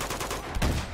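Rapid automatic gunfire from an Uncharted 2 firefight, a burst of closely spaced shots with a heavier thump just past the middle, loud and near with no talk over it.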